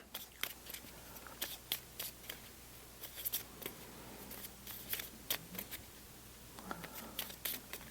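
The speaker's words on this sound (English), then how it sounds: "1, so I need to shuffle." Cards shuffled by hand for the Legendary Encounters: Alien deck-building board game, a run of crisp riffling bursts and snaps repeating irregularly, close and fairly quiet with no talk.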